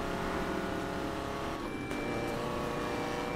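A race-tuned VW Beetle in Need for Speed Payback, its engine droning steadily at high revs with a brief dip in pitch midway, loud and continuous.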